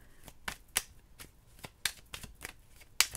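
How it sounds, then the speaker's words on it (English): Tarot cards given a quick shuffle, a few sharp riffling bursts and soft card slaps at irregular intervals, close and fairly quiet, with no talking. "I wanted to give them a quick shuffle again."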